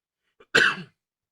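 A single sharp cough bursts out, preceded by a faint small throat sound, close to the microphone and alone in otherwise silent surroundings.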